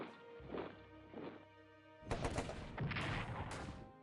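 Defensive artillery fires in a Russian Civil War strategy video game, with a few soft thuds early on followed by a louder burst of crashing, cracking blasts in the second half, all without talk.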